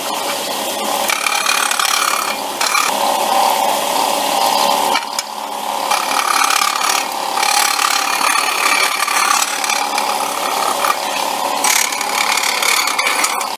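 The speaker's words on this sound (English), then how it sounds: "Now we'll try finishing it on the disc sander." Continuous grinding and rubbing of a metal milling vise speeder part pressed against a spinning disc sander, loud and steady with slight variations as the workpiece shifts, with no talking.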